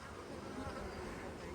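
Honey bees buzz at a hive, a dense, continuous drone of many insects, faint and steady throughout with no clear talk.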